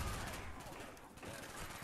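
Rapid automatic fire from an MPL gun in a video game, a dense continuous stream of shots, quiet overall, with no talk over it.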